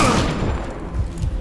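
A rapid burst of video game gunfire, loud at first and then trailing into scattered, echoing shots, with no talking.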